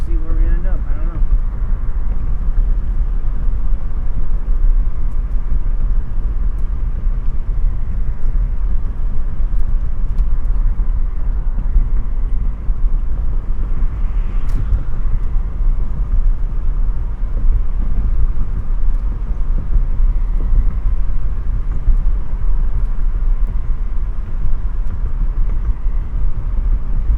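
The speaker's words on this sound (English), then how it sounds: "We are getting a lot of wind on both left and right sides." Wind roars through the open windows of a car on a late-night drive, a loud, constant low buffeting rush that holds steady the whole way, with road rumble underneath.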